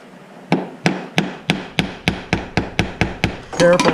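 Someone hammers a metal snare lock on an anvil, landing about ten sharp, evenly spaced blows close by, followed by a brief metallic clatter.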